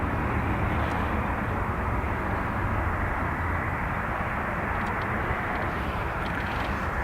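Steady, dense engine rumble from a Ryanair jet departing Dublin Airport's runway 28 right for Bucharest, a continuous broadband roar holding at an even level without voices.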